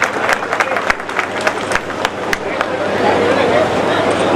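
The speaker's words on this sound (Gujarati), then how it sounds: "આપણે એકવાર જોરદાર તાળીઓથી આ સન્માનને વધાવી લઈએ" An audience breaks into applause for an honour ceremony, with scattered sharp claps early on building into steady, dense clapping from a crowd.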